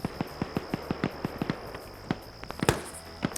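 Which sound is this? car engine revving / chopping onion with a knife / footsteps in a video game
footsteps in a video game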